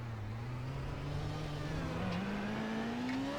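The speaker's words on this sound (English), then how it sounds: "Slow, lurid spin for that F1 car to eventually face the wrong way" F1 car engine in a racing video game at Autódromo José Carlos Pace, holding a steady droning note that slowly climbs in pitch as it revs after a spin, loud and continuous.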